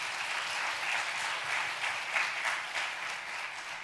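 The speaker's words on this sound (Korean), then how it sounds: "우리 초등학교 친구들 참 교회 보배들인데 우리 격려의 박수 한번 부탁드립니다" A church congregation applauds elementary school children in a steady, even round of clapping heard at moderate distance, with no voices over it.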